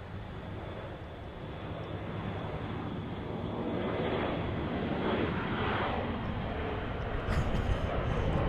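Airbus A330 airliner taxiing at Detroit Metro airport, a distant broad jet-engine roar that slowly swells in loudness, with faint background noise.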